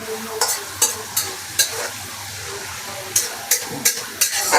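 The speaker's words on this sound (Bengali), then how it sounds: "তাদের জন্য একটু লুডুস পাকানো হচ্ছে" Vegetable noodles are stir-fried in a hot pan, with a soft continuous sizzle under sharp, regular scraping strokes of a spatula, about one every half second to second, loud and close.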